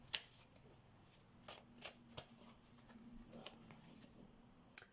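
Tarot cards are shuffled close up in a quiet room, giving a series of soft, crisp riffling flicks spaced irregularly across a few seconds.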